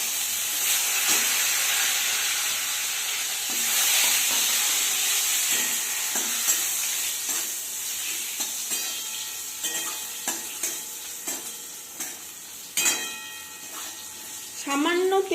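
Whole cumin and bay leaves hit hot oil with browned potatoes for a vegetarian ghugni, giving a loud steady sizzle and hiss with stirring scrapes and clinks that grow sharper near the end.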